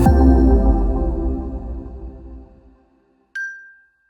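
A single bright bell-like ding rings out clearly after a fading wash of music, then decays smoothly into silence.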